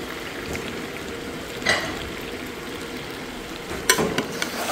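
Meat for mutton curry fries in a pot, giving a steady soft sizzle with a few brief stirring clatters near the end, fairly quiet and close.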